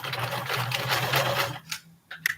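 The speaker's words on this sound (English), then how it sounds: "line it up and sew across." Sewing machine stitching across a small standing fabric bag, a steady fast mechanical whir for about a second and a half, then stopping with a few short clicks and taps, close and clear.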